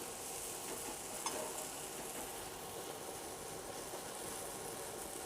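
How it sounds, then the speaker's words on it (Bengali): Leafy greens frying in a wok make an even, steady sizzle at moderate volume, with one brief clink partway through and no talking. "দিয়ে একটু ভাজা ভাজা হয়ে গেলে নামিয়ে নেব।"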